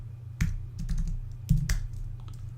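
Brief bursts of keystrokes clatter on a computer keyboard while code is entered, a few close, crisp taps in two short clusters with quiet gaps between.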